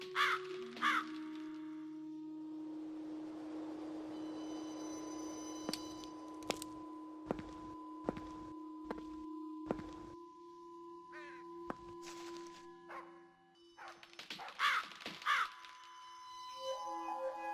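Large black crows caw in The Lost Crown video game, with a couple of loud harsh calls at the start and a cluster near the end, set against a steady electronic tone and sparse clicks.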